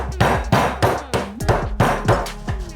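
Ice being crushed very fine for a bourbon mule cocktail, heard as a rapid, steady series of loud, close whacks and crunches, roughly three or four blows per second with no talking.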